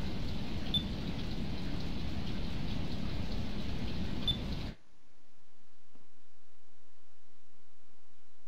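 Steady in-game rain hisses loudly and evenly in Skies of Arcadia, then cuts off abruptly partway through, leaving near silence.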